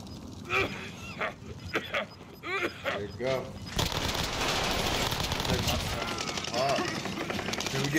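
Video game gunfire comes in short bursts that grow into a steady, dense barrage in the second half, with excited voices talking over and between the shots.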